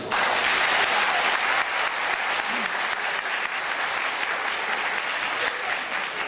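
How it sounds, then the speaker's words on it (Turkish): A studio audience applauds warmly on a Turkish matchmaking show for a prospective groom. Dense, loud, continuous clapping fills the whole stretch with no break. "Beyin Hanım'a alkışlıyoruz."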